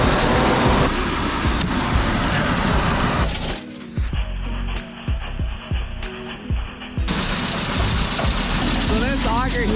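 A grain bin auger runs beneath the bin floor, a loud, steady mechanical drone that drops briefly to a thinner, clattering whir midway before the full roar returns.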